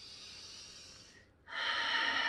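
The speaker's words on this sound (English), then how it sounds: "So go ahead and deep breath in" A single deep breath in, drawn slowly and softly through the nose, then a fuller, louder breath that carries through to the end.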